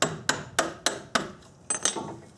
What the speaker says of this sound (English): Get a hammer, and I'll tap the bottom of the screwdriver.